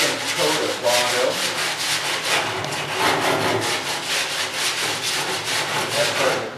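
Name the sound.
sanding block sanding Bondo body filler on a classic car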